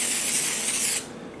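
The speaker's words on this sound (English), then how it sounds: "Right now I got some Pam, extra virgin olive oil. So I'll just go ahead and spray some on there." Pam extra virgin olive oil cooking spray hisses steadily from a can onto salmon for cedar plank grilling, one continuous close spray lasting about a second before cutting off.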